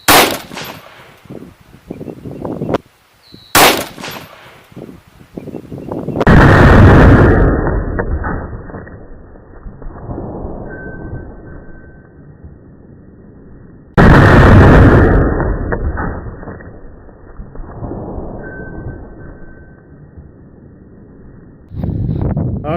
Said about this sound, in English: I just shot the low velocity 130 spear. I shot 2, one for a test fire to sight it